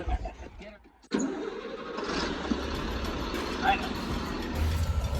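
A school bus engine, just fitted with a junkyard transmission, cranks and catches after a brief quiet, then runs in a steady rough idle with faint voices in the background.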